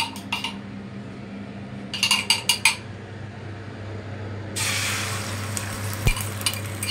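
An egg frying in a pan in a home kitchen: a few light utensil clinks and taps, then a steady bright sizzle that starts partway through and holds to the end, close and moderately loud, with no talking.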